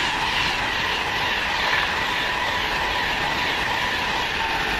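A train rolls through Cheddington station on the Birmingham New Street to London Euston line, a steady loud rumble of wheels and carriages with rhythmic clatter throughout, no voices.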